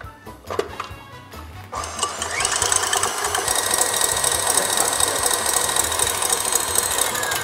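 An electric mixer whips egg yolks and fondant with trimoline, starting with a few clattering knocks, then settling into a loud, steady high-speed whir that fills the rest of the clip.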